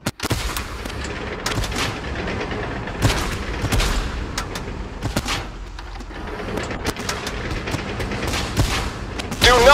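Gunfire in a tank video game, repeated sharp shots and bursts scattered irregularly across a continuous rumbling battle background, loud and close throughout.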